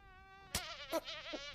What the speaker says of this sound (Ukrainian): Тут муха.